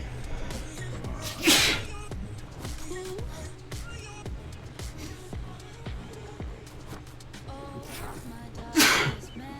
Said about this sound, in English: Sneezed on my doggy.